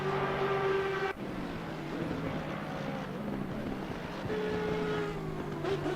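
Racing cars from Assetto Corsa Competizione lapping Misano, engines droning steadily with shifting pitch as several cars run close together, one tone cutting off sharply partway through before another engine note rises again.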